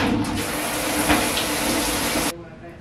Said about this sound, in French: Je vais aller dans la douche, rincer ça